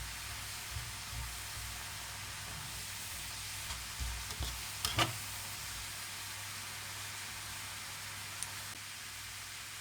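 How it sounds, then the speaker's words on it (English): Beef sizzling as it browns in a pan for a beef and Guinness pie, moving from bubbling to sizzling, a soft steady hiss with a few clinks and scrapes of stirring near the middle. "the meat kind of goes from a bubble to a sizzle"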